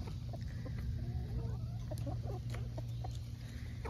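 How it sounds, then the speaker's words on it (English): Chickens peck and chomp at cooked napa cabbage, with quick, scattered, close pecking clicks and occasional soft clucks over a steady background hum. "Y'all hear them chomping on that cabbage?"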